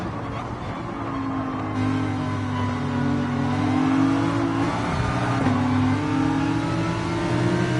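Nissan Altima race car in a racing video game, a loud steady engine drone rising and falling in pitch as it revs through gears close by, with race commentary talking over it.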